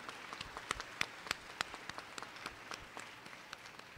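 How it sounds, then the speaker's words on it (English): Graduates and guests at a spring university commencement applaud, sparse individual claps popping at a quick uneven rhythm across a large hall, moderately distant and steady throughout. "Graduates, please give a round of applause and thanks to the faculty and staff of the university in recognition of the roles they played in the attainment of your degrees."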